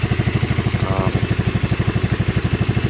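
Cazador Scorpion 200 UTV with a non-counterbalanced single-cylinder engine idling close by, a steady rapid thumping pulse with loose rattling and clatter throughout, no talking.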